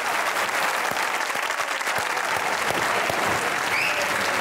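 A studio audience applauds warmly for arriving guests, dense, steady clapping filling the room at an even level throughout.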